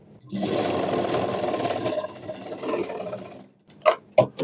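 A sewing machine runs a continuous stitching burst across a frock for about three seconds, then winds down, followed by a few sharp clicks and knocks.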